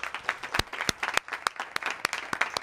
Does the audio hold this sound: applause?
yes